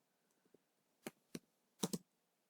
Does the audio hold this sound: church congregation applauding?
no